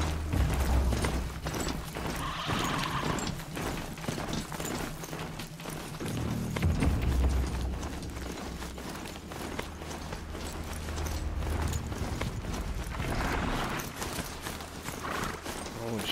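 Metallic hoofbeats pound steadily from a robotic Strider, a horse-like machine mount ridden in Horizon Zero Dawn, a constant clip-clop that is loud and close, with talk over it.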